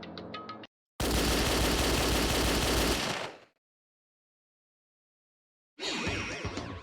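In a visual novel game, a machine gun mounted on a surveillance camera fires a dense, rapid burst for about two and a half seconds, then falls silent, and a second burst begins a couple of seconds later, loud and close.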